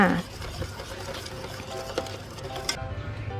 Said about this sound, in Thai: แล้วคนส่วนผสมทั้งหมดให้เข้ากัน